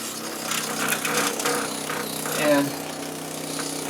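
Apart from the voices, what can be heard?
pressure washer cleaning AC evaporator vanes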